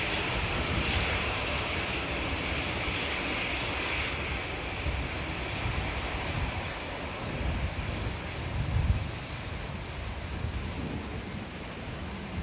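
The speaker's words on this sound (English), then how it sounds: "A7 Dreamliner departing" A Qatar Airways Boeing 787 Dreamliner departs Manchester Airport. A broad, distant jet engine roar rumbles steadily throughout and swells slightly toward the end, with no voices heard.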